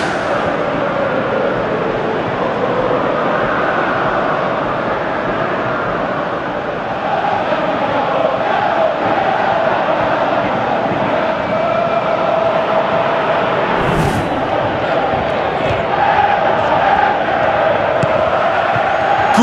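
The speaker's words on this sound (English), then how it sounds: "Crowd appreciates good football all round there." Stadium crowd in the football game PES 2017, a continuous broad roar of a large crowd at a steady level, swelling slightly in the second half, with commentary faintly underneath.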